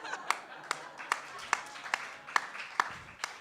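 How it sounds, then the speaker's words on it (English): Audience at a live comedy show claps in sparse, uneven single claps spaced roughly every half second, fairly quiet and close, with a low murmur beneath. "Don't clap for that."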